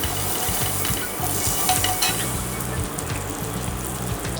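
Butter frying and sizzling in a hot pan for white pasta, a steady crackling hiss running the whole time, close and fairly loud, with no one speaking.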